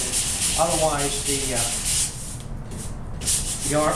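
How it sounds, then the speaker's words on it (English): Coarse 60 grit sandpaper scrubs a Boston Whaler boat's gel coat, a loud close rasping in repeated back-and-forth strokes with a brief pause partway through. "I'm going at it with some aggressive sandpaper, 60 grit, and it's bringing it down"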